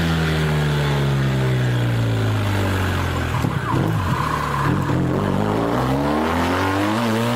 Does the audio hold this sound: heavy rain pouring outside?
no